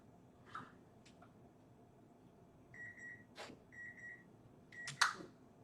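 A kitchen timer beeps in two short steady tones, faint against a quiet room hum, with soft clicks and taps around them.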